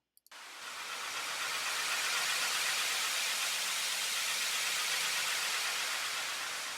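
Steady broadband hiss of synthesizer white noise swells in after a brief silence and holds evenly, loud and smooth, with no talking.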